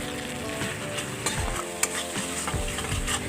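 Tomato masala with ginger, garlic and chili paste fries and sizzles in a pan, a loud continuous crackle broken by scraping stirs and a sharp clink of the spoon.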